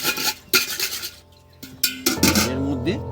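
A metal spoon set down with sharp clinks against a pot or bowl while making dhokla batter in a home kitchen, a few separate clatters and scrapes followed by a soft stirring rub.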